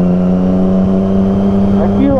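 A 2020 Triumph Street Triple RS motorcycle engine hums loud and close during a break-in ride, a steady strong drone with a brief rising rev near the end.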